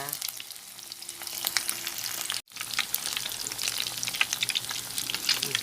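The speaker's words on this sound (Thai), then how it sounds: "ทอดไปอ่อน ทอดไปเรื่อย ๆ นะคะ" Thai pork fish cakes (thod man) deep-frying in oil give a dense, steady crackling sizzle throughout, briefly cutting out for a moment midway.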